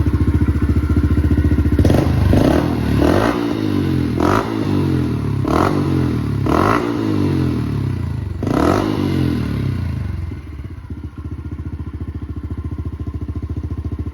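A 2022 Honda CRF110 fuel-injected dirt bike engine runs nearby at a steady idle, punctuated by several sharp throttle blips and revs before settling back to a quiet, even idle.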